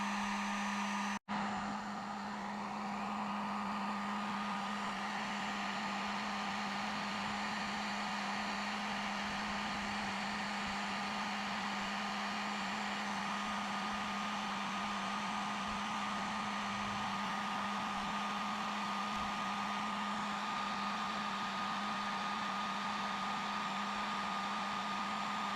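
A hot air tool runs continuously while heating 3D printed letters set in a concrete garden sign, giving a steady, fairly quiet blower whir with a constant hum that starts after a brief click and goes on unchanged.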